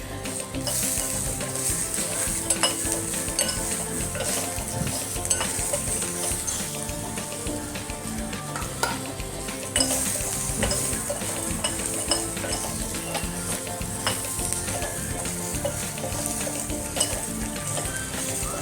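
Garlic stir-fried in a kadhai with only its leftover oil makes a dense, steady sizzle, close and loud. Spatula scrapes and clinks against the pan throughout, and no one speaks.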